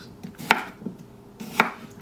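A knife chops cucumber into chunky pieces on a board, with two sharp, close strikes about a second apart and softer taps between them in a quiet kitchen.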